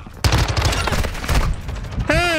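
Rapid bursts of AUG submachine gun fire in Call of Duty MWII ring out as a loud, dense crackle through most of the moment, ending in a short whooshing sweep, with a voice talking over parts of it.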